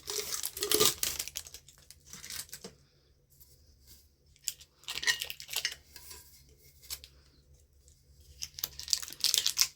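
Bursts of crinkly plastic tearing and peeling as wrapping comes off a sublimation glitter tumbler, three noisy spells separated by quiet pauses, close by.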